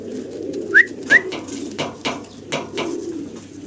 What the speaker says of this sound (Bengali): দুইটা বাচ্চা সহ চমৎকার এক জোড়া কর্মনা কবুতর